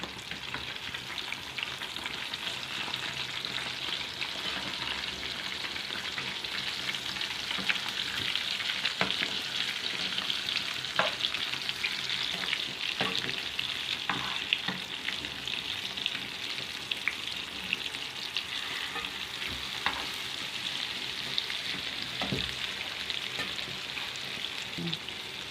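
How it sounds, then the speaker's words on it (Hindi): Fish pieces fry in oil over low heat for a crispy fish fry, giving a steady, even sizzle with small pops and crackles throughout and no talking. "ये फ्राई हो रहे हैं, अच्छी तरह से फ्राई होंगे"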